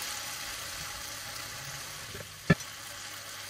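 Onions, tomatoes and carrots fry over high heat in a vegetable bolognese, giving a steady, soft sizzle throughout with one sharp utensil knock partway through.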